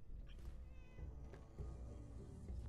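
A cat meows inside the Fallout 4 video game, heard over a steady bed of game music and ambience, with a few soft, short cries rising briefly above the background.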